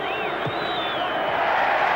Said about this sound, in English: The crowd likes it.